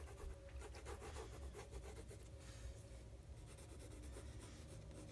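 A pencil draws on paper close up. Soft, continuous scratching and rubbing strokes follow one another rhythmically, faint and steady throughout.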